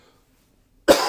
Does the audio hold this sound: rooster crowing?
no